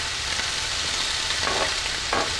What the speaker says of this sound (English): if you get any drops of water in there, it'll splatter out at you.